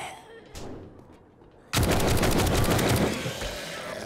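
Assault rifle fire in 7 Days to Die, a loud close burst of rapid automatic shots. It follows a quieter stretch with a single thump and keeps going to the end.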